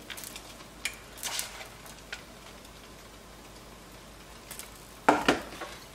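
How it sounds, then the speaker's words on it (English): A whisk and utensils clink against a pot as Parmesan cheese is worked into a sauce, sparse light taps and scrapes nearby, with a louder metallic rattle near the end and no talking. "we're going to whisk that in until it melts"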